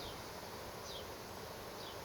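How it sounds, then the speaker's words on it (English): A faint, steady buzz of honeybees bearding outside a hive on a 90-degree day hums continuously, like many bees droning together at a distance, with no other sounds standing out. "A lot of bees in there."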